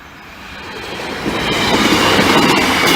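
A South Western train, a class 158 unit, passes Lolham level crossing in Cambridgeshire, a broad rushing roar that swells steadily louder as it approaches, close and loud with no voices.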